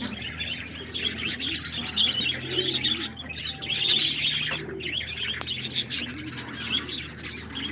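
Pigeons and lovebirds gathered at a feeding spot, with soft cooing under frequent bright chirps and tweets that rise and fall in busy overlapping bursts.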